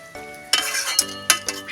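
Spice paste being stirred into gab leaves by hand for a steamed bhapa dish, with close, wet scraping strokes and a few sharp clinks of a utensil against the bowl.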